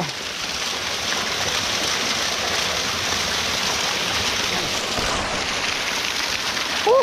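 A clear mountain stream flowing, a steady broad rush of water from start to finish with a brief voice at the very end.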